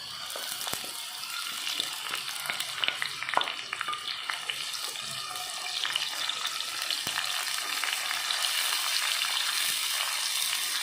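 A blended paste of onion, tomato, coconut, ginger and garlic sizzles and fries steadily in a clay pot, with a continuous bright hiss, occasional stirring clicks, and the sizzling building slightly over time.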